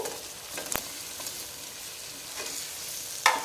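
Boiled potatoes are stirred with chaat masala and spices in a hot pan, giving a continuous soft sizzle with a few sharp scrapes and clicks of the spoon, close by and with no talk.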